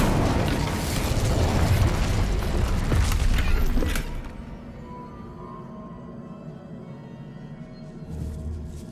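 A Bombarda blasting spell explodes in Hogwarts Legacy with a loud, roaring blast that rumbles for about four seconds, then settles into a low lingering hum and a faint later swell.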